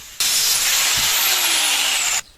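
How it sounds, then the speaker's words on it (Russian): An angle grinder cuts the rubber parts off an aluminium-bodied pump motor being dismantled. It makes one loud, steady high-pitched whine lasting about two seconds, starting and stopping abruptly over quiet background. "просто отрежем болгаркой и все"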